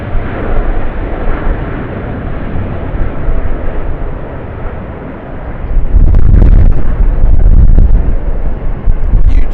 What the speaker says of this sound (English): Jetstar 787-8 departing runway 25.